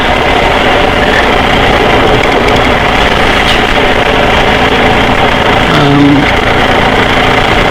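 A 2019 BMW R1250GS Adventure motorcycle engine runs with a loud, steady drone throughout, with no voices over it.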